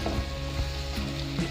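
Meat stew with ginger and paprika being stirred in a pot, a soft continuous sizzle with faint scraping stir strokes, steady and close with no talking.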